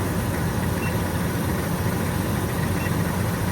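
A car engine idles with its RPMs held up, a steady, even rumble that runs unchanged throughout, close and fairly loud, with no voices.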